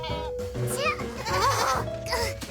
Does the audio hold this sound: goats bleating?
yes